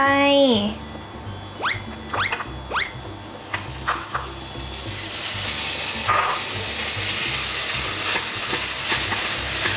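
Cooked rice stir-fried with butter and garlic in a pan gives a steady sizzle with scraping stir strokes, growing louder and denser midway, while a voice talks over the cooking early on.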